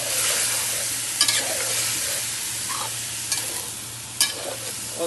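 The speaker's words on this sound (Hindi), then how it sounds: "थोड़ा सा भून लेंगे।" Ginger garlic paste frying in a pan for Sindhi biryani gives a steady close sizzle with repeated stirring scrapes and a few sharp spatula knocks, and no voices.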